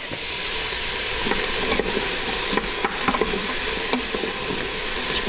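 Onions, celery and carrots being stirred in an Instant Pot with bay leaves and garlic, a steady sizzle and hiss running throughout with scattered scraping strokes of the stirring utensil, close and fairly loud, no one speaking.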